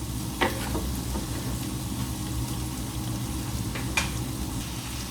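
Tomatoes sizzle in a hot pan as they cook down for an omena (silver cyprinid) dish, a steady close frying hiss with a couple of brief sharp clinks of stirring.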